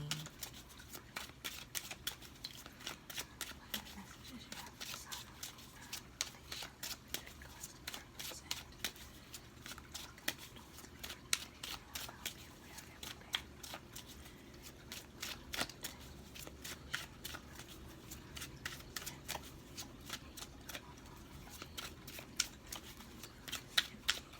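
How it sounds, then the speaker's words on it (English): Tarot cards riffle and flick in quick repeated bursts, a papery shuffling that goes on steadily and close by, with no talking. "I'm going to shuffle 2 more times."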